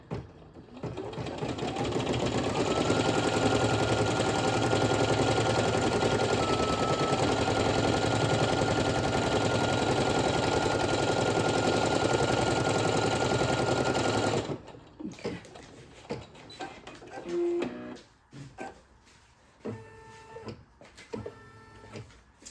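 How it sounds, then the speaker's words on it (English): An embroidery machine stitching green appliqué fabric onto a baby onesie, a loud, rapid, even mechanical whirring that runs steadily for about fourteen seconds and then stops, followed by quieter intermittent clicks and taps. "So I'm gonna place my green, let it stitch."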